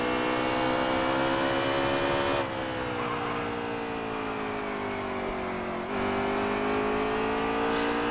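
Stock cars racing at Bristol roar in a continuous, loud engine drone with steady pitch, dipping twice as the pack sweeps past and rising again, with no talking over it.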